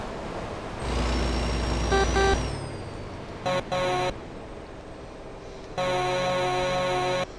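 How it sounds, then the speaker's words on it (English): A truck horn in the American Truck Simulator video game sounds in three blasts: one long tone, a short double honk, then another long sustained blast, thin and metallic, loud and close with no talk. "It's not at all what a truck horn sounds like."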